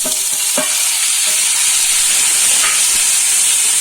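Onions and tomatoes frying in a pan for a Tamil egg gravy, giving a bright steady hiss of sizzling with a few stirring knocks near the start, close and unbroken, no voices.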